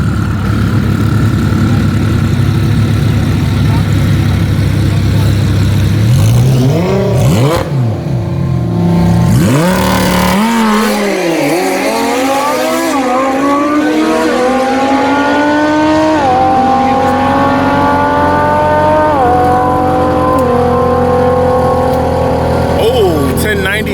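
Loud engine roar throughout, with a modified Dodge Hellcat revving hard and climbing through gear shifts on a quarter-mile drag run, wind and crowd noise underneath.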